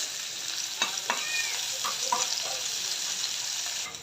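Onion and green chili fry in hot mustard oil in a frying pan, a steady close sizzle throughout with a few sharp spatula scrapes and stirring clicks, no voices.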